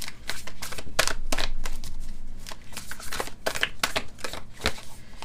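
Oracle deck cards being shuffled by hand, a run of crisp papery riffles and slaps in quick irregular bursts, close and fairly loud, with no talking.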